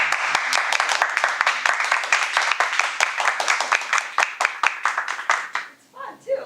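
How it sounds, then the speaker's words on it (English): A Toastmasters meeting audience claps in a quick, fairly even rhythm of distinct sharp claps, close and lively, tapering off at the end as voices begin. "That style of clapping is good."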